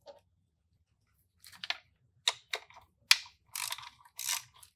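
A socket ratchet with a shallow M10 socket clicks as it backs out bolts holding the rectifier on a Yamaha 3.3L F225 outboard, with several short close ratcheting bursts separated by pauses.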